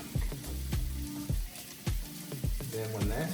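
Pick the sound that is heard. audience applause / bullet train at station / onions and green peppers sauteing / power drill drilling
onions and green peppers sauteing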